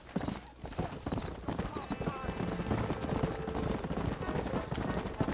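Rhythmic clip-clop of horse hooves at a steady walk in the video game Red Dead Redemption, with people talking over it and background game sound.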